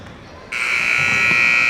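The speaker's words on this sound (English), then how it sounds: "Looks like we're gonna call the buzzer a little bit early and get ready to get started here." At a boys' middle school basketball game in a gym, the scoreboard buzzer cuts in sharply after a quiet moment and holds a loud, steady electronic drone.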